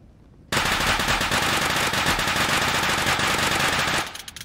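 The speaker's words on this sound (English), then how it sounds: "It's about 40 shots of the MP5." An MP5 submachine gun in a video game fires a long, loud, continuous burst of roughly forty rapid shots that runs nearly four seconds and then cuts off.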